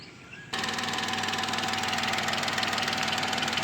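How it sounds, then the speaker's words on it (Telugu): A 2019 Tata Nexon XM petrol engine cranks and catches after a brief pause, then settles into a steady, close, even idle hum. "ఒకసారి ఇంజన్ స్టార్టేజ్ కూడా చూపిస్తాను చూడండి"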